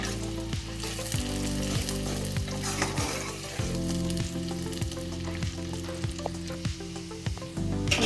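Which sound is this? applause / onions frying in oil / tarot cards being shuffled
onions frying in oil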